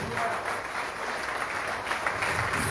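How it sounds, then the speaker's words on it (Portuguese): Applause rises from a church congregation during a worship service, a steady wash of clapping that holds evenly from start to finish under a faint background murmur. "Aplauda esse Deus maravilhoso"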